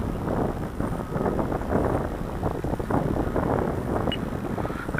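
Strong wind at a flying field for RC planes, buffeting the microphone in a continuous low roar with gusty swells and dips throughout.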